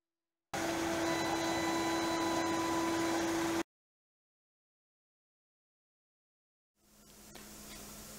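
A CNC machine making a light finishing pass of a tenth of a millimeter gives a steady, loud whining hiss with a sustained tone for about three seconds. It stops abruptly into silence, and a softer broadband noise follows near the end.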